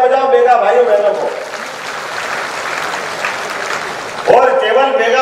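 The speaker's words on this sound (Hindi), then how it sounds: "जोरदार तालियां बजाओ बेगा भाई बहनों को।" Crowd applause for Baiga tribal dancers at a Madhya Pradesh government event, a broad wash of clapping between stretches of a man addressing the gathering over a loudspeaker.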